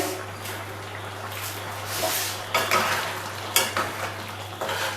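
Thick Bengali-style pav bhaji stirred in a pan after chopped coriander goes in, with a soft sizzle, scraping spoon strokes and a few clinks against the pan over a steady low hum.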